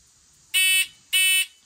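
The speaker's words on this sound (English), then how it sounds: "we're going to take and set up your timer mechanism so that we're right at a half a second" A shot timer emits two loud, sharp electronic buzzer beeps about half a second apart, each a bright harsh tone lasting roughly a quarter second, heard close with no talking.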